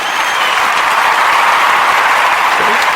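Steady, dense clapping from a group, a continuous wash of applause, loud and unbroken for the whole stretch.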